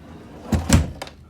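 A repaired drawer in an RV camper slides and bumps shut: a soft sliding rub, then a louder wooden thunk as it closes, followed by a lighter knock, close and with no talk.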